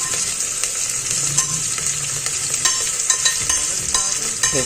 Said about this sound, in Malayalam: എല്ലാ വെജിറ്റബിൾസും നമ്മൾ ആഡ് ചെയ്ത് കഴിഞ്ഞു സിമ്മറിൽ വെച്ചിട്ട് ചെറുതായിട്ടൊന്ന് വഴറ്റി കൊടുക്കുക